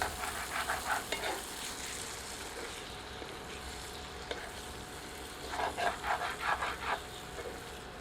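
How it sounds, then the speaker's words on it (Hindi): Masala chicken frying in a pan while being stirred, a low steady sizzle with bursts of scraping, shuffling stirring at the start and again near the end. "एक बार अच्छी तरह स्टर करते हैं"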